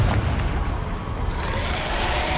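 Confringo fire-spell blasts in Hogwarts Legacy, a dense continuous rumble of booming explosions and crackling bursts, loud and sustained with no pauses.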